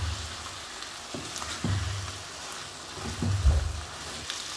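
Mixed vegetables and tomatoes fry in a pan over high flame, giving a soft continuous hiss broken by a few dull knocks of stirring.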